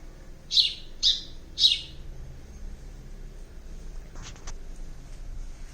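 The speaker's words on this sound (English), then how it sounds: "Chirp. Chirp. This is the sparrow sound." A sparrow gives three bright, sharp chirps in quick succession, clear and close, followed by a faint scraping sound over quiet background.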